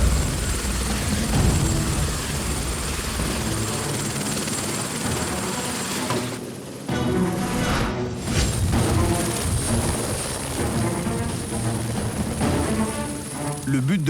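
Helicopter flying during a firefighter lifting exercise carrying men, motor pumps and a 2000-litre water tank to a summit: a loud, continuous rotor thrum and turbine whine, briefly dipping around the middle before returning close and strong, with voices underneath.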